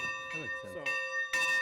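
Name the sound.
steam locomotive bell ringing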